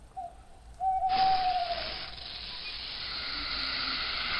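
A single drawn-out owl hoot in the Second Life video game on a haunted island, quickly swamped by a loud, sustained hiss that lingers to the end.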